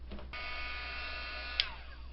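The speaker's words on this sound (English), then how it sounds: "I'm gonna hit it with my heat tool, I think." Handheld heat tool drying ink on a paper card, a steady electric whirring hum that switches on early and runs continuously, close and even, with a brief click partway through.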